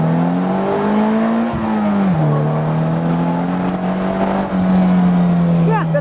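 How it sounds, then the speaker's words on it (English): A Polaris Slingshot is floored in first gear, its engine note rising steadily in pitch under full throttle with a brief gear-like dip, loud and close throughout. "Let's see what happens when I floor it in first gear."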